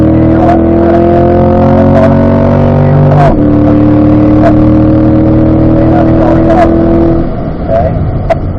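A car is driven on a race track during a track session, its engine droning loudly and steadily from inside the cabin with shifting tones and a change in pitch as it slows.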